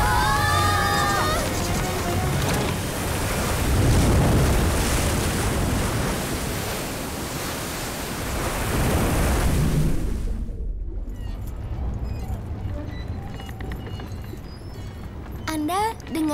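Loud, continuous rush of ocean waves and surf with wind noise, swelling and fading, then dropping to a quieter hiss near the end.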